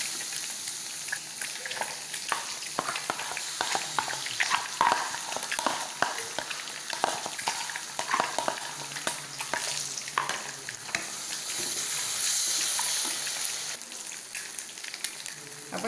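Food sizzles and crackles in hot oil in a pan while vegetables for a vegetable biryani are fried and stirred, with steady frying noise and repeated scraping stir strokes close up, no voices.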